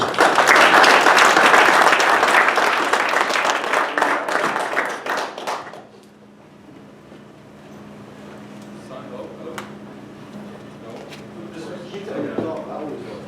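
A live audience applauds a speaker onto a stage, loud dense clapping that fades out after several seconds into quiet room tone with faint scattered noises.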